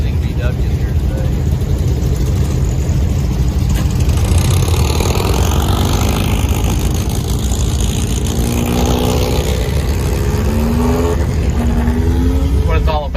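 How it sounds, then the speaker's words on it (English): Volkswagen cars idle and pull away into a parade at a 30th-year VW car show in Eureka Springs, a loud, continuous mid-pitched engine rumble close by, with faint voices mixed in. "Taking off into the VW parade"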